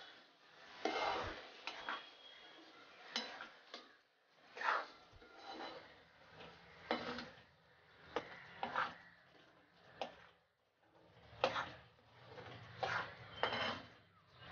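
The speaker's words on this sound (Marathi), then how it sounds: "आता आपण याला व्यवस्थित चांगलं मिक्स करून घ्यायचं आहे।" A spoon stirs masala paste in a pan for a dry fish curry, giving quiet, irregular scrapes and clinks against the metal, repeated roughly every second, with a faint sizzle underneath. No talking.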